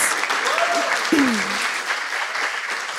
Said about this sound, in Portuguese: Queria uma salva de palmas para essas mulheres maravilhosas.